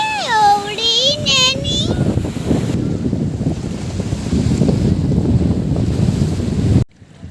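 Steady rush of sea surf and wind buffeting close by at a breakwater, with a brief high tonal call at the start; the noise cuts off abruptly near the end.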